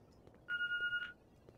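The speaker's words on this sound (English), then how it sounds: "Did you just hear a phone ring?" A single short telephone ring sounds in The Walking Dead video game, a clear electronic trill lasting about half a second against quiet background hiss.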